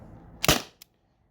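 A T4E TR50 CO2-powered gun fires a single sharp, close shot with a fast hiss of gas, followed a moment later by a faint click, then silence.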